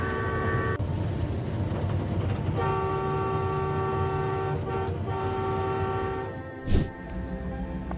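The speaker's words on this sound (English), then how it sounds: "A poor donkey was standing on the railway tracks and was struck by a high-speed train." A high-speed train approaches along railway tracks, a loud sustained horn blast over a broad rumbling roar, ending with a brief sharp thump.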